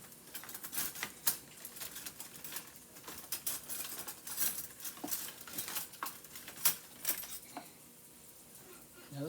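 Cutlery clinks and taps in a kitchen while a spoon is fetched for homemade mashed potatoes, a string of close, bright metallic ticks and rattles with faint rustling between them.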